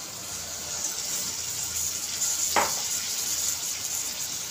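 Cauliflower florets drained from water and tipped into a hot, oil-glossed masala gravy for a cauliflower-potato curry: a steady soft sizzle with one brief splashy hit as the vegetables drop in.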